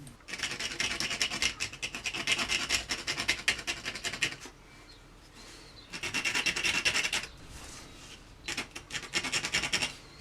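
Leather is scuffed with a rasping, scratchy rub to give it a keyed surface for gluing. The strokes come in quick bursts a few seconds long, broken by short pauses, and sound close up with no talking.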